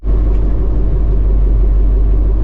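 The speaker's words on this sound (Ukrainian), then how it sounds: "Ну, комбайн поїхав." Combine harvester driving off across a farm field, a steady loud low rumble of engine and machinery close by, unbroken with no voices.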